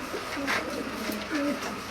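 Black-faced Sialkoti pigeons coo close by in a few soft, throaty bursts, with steady background noise.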